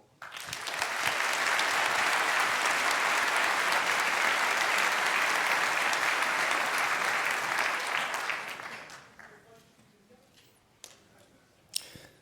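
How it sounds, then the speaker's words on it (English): A conference audience breaks into sustained, dense applause welcoming a speaker, loud and steady for about eight seconds before fading into a few scattered claps and room quiet. "Please welcome him with a huge round of applause."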